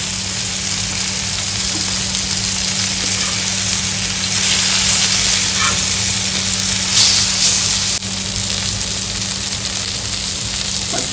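Boit fish sizzles steadily in hot frying oil, a continuous close crackle and hiss with no talking.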